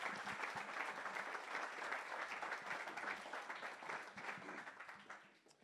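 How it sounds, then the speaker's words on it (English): An audience at an artificial intelligence tech talk applauds the panel with dense, sustained clapping that fades toward the end. "if we can give the panel just a round of applause"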